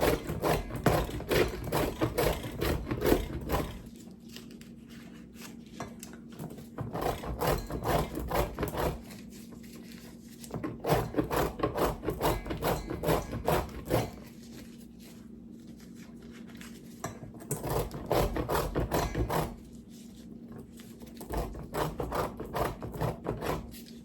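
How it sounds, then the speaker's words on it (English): Cold butter scraped over a grater into shavings, a dry rasping rub in repeated bursts of strokes with short pauses between, close and fairly quiet. "look at these nice shavings of butter"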